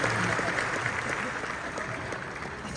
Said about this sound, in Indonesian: tepuk tangan dulu buat Mas Gibran